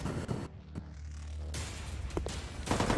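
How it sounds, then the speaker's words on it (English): Video game gunfire crackles in rough bursts, several sharp loud reports close together over a dense noisy background, with no voices. "I heard gunshots"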